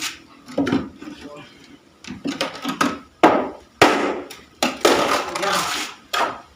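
A bolo knife chops wood in sharp, close, loud strikes, irregularly spaced with pauses between, and talk underneath some of the blows.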